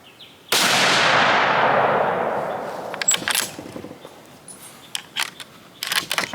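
A single loud .308 rifle shot cracks sharply and rings out in a long fading tail, followed by a few light clicks and handling noises nearby.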